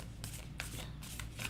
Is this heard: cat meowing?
no